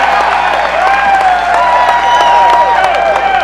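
Connecticut supporters in a large political convention hall applauding and cheering for Bill Clinton's farewell speech, a dense continuous roar of clapping with sustained crowd noise and whistles.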